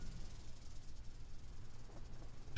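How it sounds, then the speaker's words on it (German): A snake in the survival video game Green Hell gives a soft, drawn-out hiss, faint and low in level over a quiet ambient background with no talk. "Schlange gehört."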